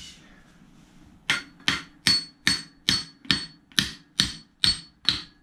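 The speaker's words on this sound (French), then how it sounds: "je vais utiliser un marteau en cuivre pour dire de me le décoller" After a quiet start, about ten sharp metallic hammer taps ring out at a steady, even rhythm, close and fairly loud.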